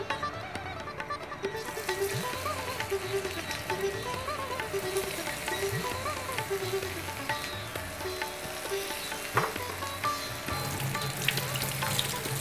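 Hot oil frying steadily in a pan for a chhana and coconut dish, a dense continuous crackle and sizzle at close range with a faint hum beneath and occasional sharper pops.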